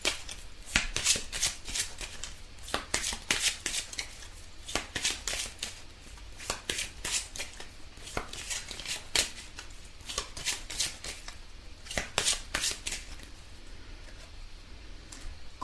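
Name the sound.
shuffling and drawing tarot cards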